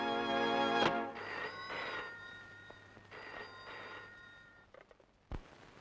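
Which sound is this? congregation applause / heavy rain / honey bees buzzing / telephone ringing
telephone ringing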